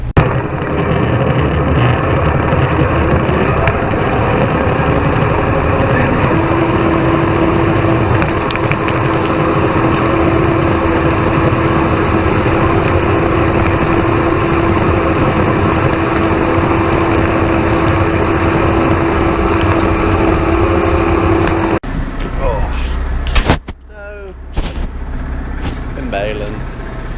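A tractor with a hay baler baling hay, a loud, steady engine drone with mechanical churning and a sustained tonal hum through most of the clip, ending in a few uneven knocks and shifts.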